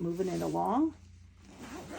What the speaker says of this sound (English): open and close this zipper a few times